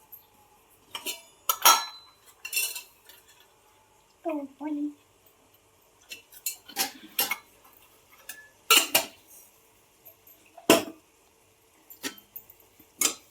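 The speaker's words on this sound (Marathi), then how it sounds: "मिक्स करून घेऊन झाकण ठेवून गॅस बारीक करते" A spoon stirs a ground peanut powder mixture in a metal pot, giving sharp, irregular clinks and scrapes in quick clusters with quiet gaps, while a voice speaks briefly in between.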